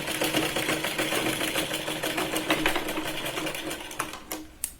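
A sewing machine stitches the seams of a katori blouse, a fast, rhythmic needle clatter heard close and loud that runs steadily before cutting off near the end.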